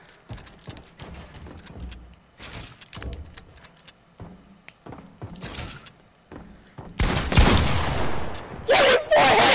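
Fortnite gunfire rattles out in scattered bursts of sharp shots, growing into louder, denser volleys toward the end, with game sounds and some voices mixed in.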